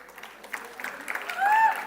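Soft, scattered clapping from an audience at a BBA convocation ceremony, fairly faint and distant, swelling slightly toward the end with a voice speaking over it.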